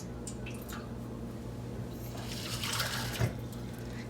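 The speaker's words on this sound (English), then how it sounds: "I was supposed to add a cup of water to the drip tray" Water poured from a cup into the drip tray of a Starfrit Rock indoor grill, heard as a soft, close trickle and splash that swells toward the end over a steady low hum.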